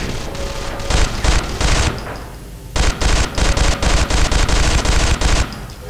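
Rapid automatic gunfire in the sci-fi shooter video game Interstellar Marines comes in two dense bursts of loud, close shots separated by a brief pause, with no talk.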